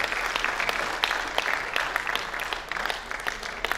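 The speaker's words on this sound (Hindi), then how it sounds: "अब पुरजोर तालियों से उनका इस्तकबाल" Enthusiastic applause at a Hindi comic poetry gathering welcoming a guest, dense steady clapping from an audience lasting the whole moment, moderately near.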